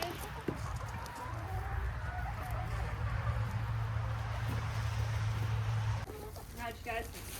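Chickens clucking on a farm at feeding time, a busy flock close by under a steady low hum, with a person talking over them near the end.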